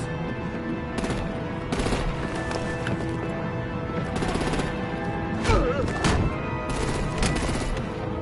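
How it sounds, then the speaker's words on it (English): Bursts of gunfire and explosive cracks in Batman: The Enemy Within as vehicles come under artillery fire, repeated sharp blasts over continuous game background noise and voices. "Break out the artillery and disable their vehicles!"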